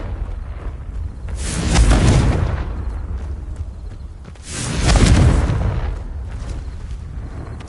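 Two loud, booming blasts from the Confringo explosion spell in Hogwarts Legacy burst out about three seconds apart, each swelling and then fading over a low rumble.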